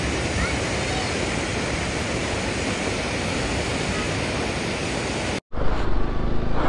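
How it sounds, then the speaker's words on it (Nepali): Loud, dense roar of the Rupse waterfall (Rupse Jharna) rushing down close by, continuous broadband noise broken by a brief cut before resuming just as strongly. "यो झर्ना है यस्तो ठुलो छ"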